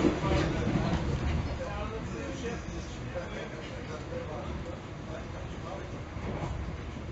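Steady rumble of a train running from Lisbon to Coimbra in Portugal, a continuous rolling drone with faint rattles throughout, heard from inside the carriage.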